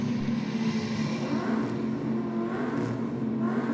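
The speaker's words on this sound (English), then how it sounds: "The Hillbilly motoring now at the top end of the racetrack." A drag race car motoring at the top end of the racetrack, a loud continuous engine roar with a steady droning tone, heard up close.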